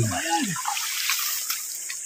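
Water rushes steadily through a channel in Indang, Cavite, a bright hissing flow close by, preceded by a brief voice-like sound at the start.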